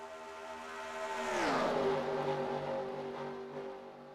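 Race car in a racing video game sweeping past with a rising then falling engine pitch, a single loud close pass that fades away.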